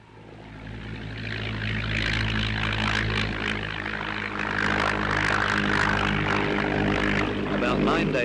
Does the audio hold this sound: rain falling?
no